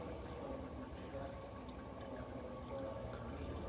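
Automatic transmission fluid drains from a 2017 Toyota Tacoma TRD Sport into a pan, a steady, close trickle of liquid at an even level that continues throughout.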